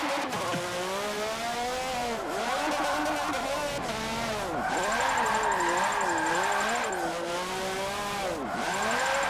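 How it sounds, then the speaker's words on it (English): A Renault Formula 1 car's engine in the Forza 7 racing game screams at high revs while drifting, its pitch repeatedly dipping and surging over several seconds with tire squeal, loud and continuous with no talking. "I can't drift an F1 car."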